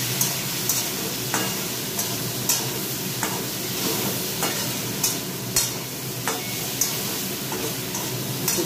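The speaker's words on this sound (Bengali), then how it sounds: "একটু ভাজা হোক" Food fries steadily in a pan while someone cooks a Bengali home dish, a continuous close sizzle broken by regular clacks and scrapes of a stirring spoon, with no talking.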